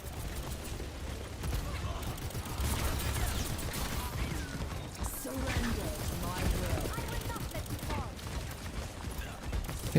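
Gunfire in the competitive team shooter Overwatch, rapid continuous shooting mixed with ability effects and match noise, steady and busy throughout with game speech beneath.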